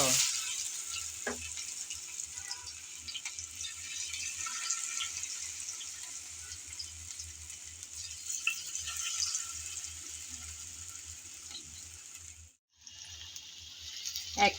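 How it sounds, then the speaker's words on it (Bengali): Pakoras of pumpkin greens frying in hot oil, a steady close hiss and crackle that runs throughout with a brief dip near the end. "গরম তেলে আমি একটা চামচের সাহায্যে একটা একটা করে ছেড়ে দেব"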